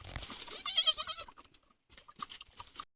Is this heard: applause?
no